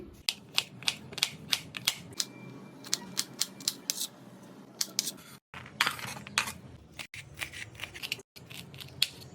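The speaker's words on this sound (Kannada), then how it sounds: "ಸೊ ಇವಾಗ ನಾನು ಅದನ್ನ ಡೈರೆಕ್ಟ್ ಆಗಿ ಇದೇ ರೀತಿ ಕಟ್ ಮಾಡ್ಕೊಳ್ತಾ ಇದ್ದೀನಿ" A knife chops through green beans for a vegetable Maggi dish, giving quick, crisp, close-up cuts in an uneven but steady rhythm, with brief pauses between bursts and no talking.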